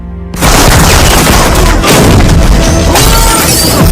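A grenade explosion in a movie erupts as a loud, sudden blast that bursts out of near silence and rolls on as a dense, sustained roar with crashing debris.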